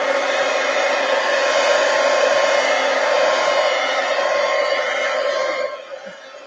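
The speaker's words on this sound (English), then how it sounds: "So let's just take a heat gun to it, make sure it's dry." Heat gun blowing on a watercolor painting, a loud steady whooshing roar held for several seconds before it cuts off and fades near the end.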